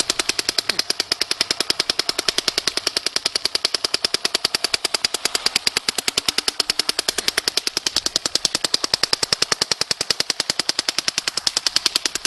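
Dye NT paintball marker firing in a fast, steady volley of sharp pops, continuous and loud for the whole stretch with no voices.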